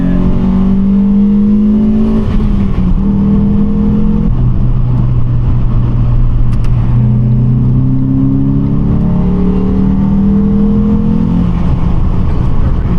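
A naturally aspirated car engine drones steadily from inside the cabin, its pitch rising and falling through several gear changes as the vehicle accelerates and cruises.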